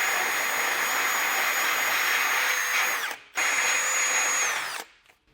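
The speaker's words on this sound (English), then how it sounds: "I like to take a grinding bit and just kind of smooth out some of these rough edges." Power drill with a grinding bit smoothing rough metal edges on a base plate kit installed on a 2024 Jeep Wrangler Unlimited, a loud steady high whine running about three seconds, a brief break, then another burst that winds down.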